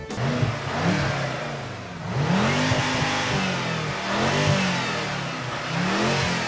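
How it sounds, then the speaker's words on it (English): A powerful 2014 BMW M6 Gran Coupe engine starts and revs repeatedly, the pitch sweeping up and down in several bursts, loud and close with no talking. "Let me turn on the engine."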